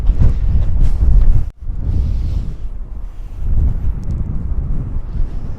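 Strong wind blowing outdoors in cold weather near a park, heavy rumbling gusts buffeting the microphone almost continuously, with one brief lull.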